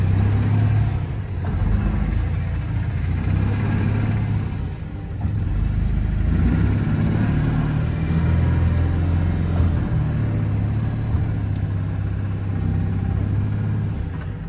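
A Citroën 2CV Charleston's small engine runs steadily and close, a low rumbling idle that lifts briefly as the car pulls away, with no talk over it.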